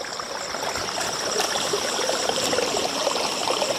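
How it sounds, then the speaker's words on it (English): Water trickles over a series of small waterfalls at the sand dams on the Kalitya River, a steady broadband rush and splash that holds evenly throughout with no voices. "capture all of the small waterfalls that we have in this river"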